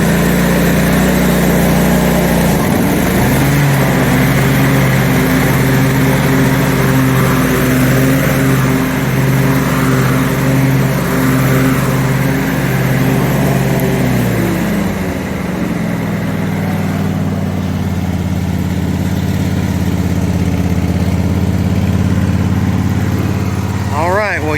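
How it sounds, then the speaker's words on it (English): A lawn mower engine revs with its blades engaged and the deck being raised and lowered, a loud steady mechanical drone with tonal hum that drops in pitch partway through and continues running. "we're going to start the blades up, rev it up, and drop the deck, move the deck up and down"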